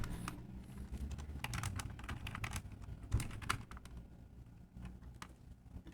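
A security code is typed on a computer keyboard, a close run of quick, irregular key clicks with one sharper tap partway through, alone with no talking.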